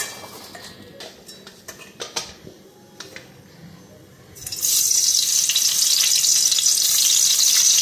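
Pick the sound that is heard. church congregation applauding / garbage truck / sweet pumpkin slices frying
sweet pumpkin slices frying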